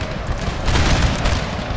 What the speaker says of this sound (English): I think we are getting, unfortunately, some friendly fire here